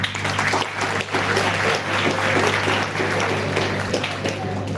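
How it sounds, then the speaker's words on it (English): Scattered audience applause at a live foundation event fills the room, steady and moderately loud with a constant low hum beneath, lasting several seconds. "give a big round of applause for them"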